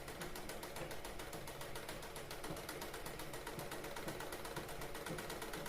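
A sewing machine stitches the curved back neckline of a blouse, its steady rapid needle chatter running continuously and evenly for several seconds with no talk.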